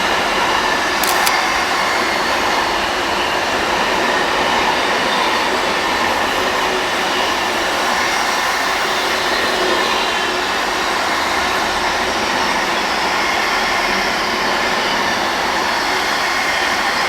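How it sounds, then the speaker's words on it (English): A DRS freight train hauled by a class 93 locomotive passes on the West Coast Main Line near Birmingham, a steady loud rumble and rail roar lasting throughout with no talk. "there's a 93 coming through on a DRS freight on the West Coast Main Line"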